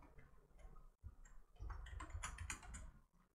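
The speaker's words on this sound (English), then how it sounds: "I think this computer came with a keyboard, but it's loud." A loud stock computer keyboard clacks under quick, irregular bursts of typing, close and crisp, with a short pause in the middle.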